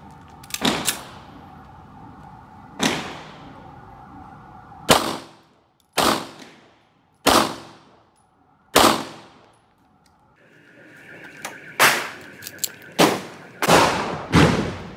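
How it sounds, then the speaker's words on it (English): Nine-millimetre full metal jacket rounds at about 1380 feet per second are fired at a target at an outdoor range. About ten sharp, loud reports come at irregular intervals, each with a short ringing decay and some quiet gaps between them. "So shot it with an FMJ, 1380 FPS, 9 millimeter at the back, very close to each other."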